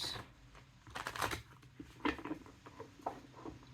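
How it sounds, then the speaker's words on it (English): Tarot cards being shuffled close by, heard as faint, irregular papery patters and soft slaps in short bursts against a quiet room. "I'm shuffling again. I want to pull some cards"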